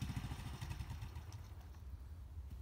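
A Honda CRF50 dirt bike engine idles quietly nearby, a low, even putter with faint mechanical clatter that keeps steady throughout.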